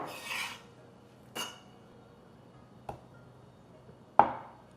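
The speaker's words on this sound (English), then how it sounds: "Cut the tofu into cubes and set aside" A knife cuts tofu into cubes on a board, four separate soft strokes spaced over a few seconds, the last one the sharpest, quiet and close with no talk.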